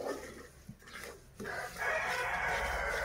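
Chickens and chicks in a backyard coop, a rooster crowing loudly and clucking close by over a steady rustling background.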